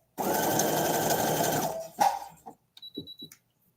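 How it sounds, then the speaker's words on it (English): Sewing machine running a zigzag stitch: a close, steady mechanical whirr for about two seconds, then stopping, followed by a few short clicks and knocks of the machine being handled. "the stitch that I'm using is a zigzag stitch"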